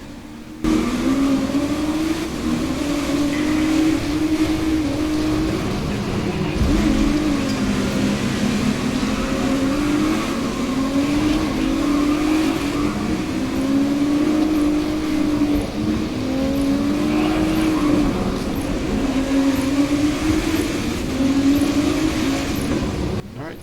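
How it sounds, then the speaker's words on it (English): Continuous video game race car engines revving and droning, pitch rising and falling repeatedly as the cars accelerate and shift, steady and fairly loud throughout. "Give you a little bit of the sound, what the engine sounds like"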